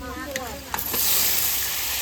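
A brief voice, then a sharp clatter as meat hits the wok and a loud sizzle rises and holds steady.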